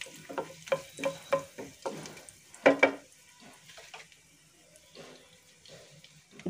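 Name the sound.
cumin and curry leaves frying in oil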